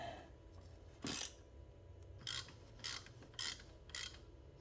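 A tap cuts new threads into a stripped stud hole on a BMW M54 cam tray, heard as faint, close, rhythmic scraping bursts repeating at a steady pace against quiet background noise.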